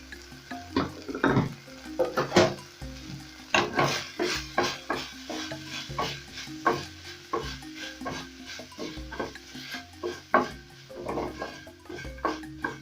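Onions and coriander leaves frying in a pan for a pork dry fry, crackling and sizzling while a utensil stirs in repeated scraping strokes, close and moderately loud with no talking.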